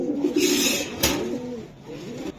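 Racing pigeons coo in low, throaty, repeated calls close by, with a sharp click partway through and no talk.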